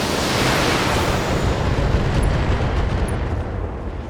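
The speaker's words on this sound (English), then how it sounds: "Let him have it with the missiles now." In the video game BattleTech, a barrage of missiles hits a mech as one continuous loud roaring rush of explosions with no talking, holding steady for about four seconds.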